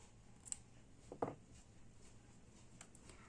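Scissors snip through yarn while a crochet sunflower bag is being made: one short, clear cut in a quiet room, without speech.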